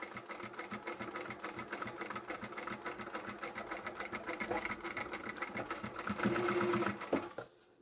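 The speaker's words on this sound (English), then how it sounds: "I'm going to stitch over that a couple of times just to reinforce that" Sewing machine stitching a picnic placemat pocket, running steadily and close with a rapid mechanical rhythm, reinforcing a seam with repeated passes before stopping abruptly near the end.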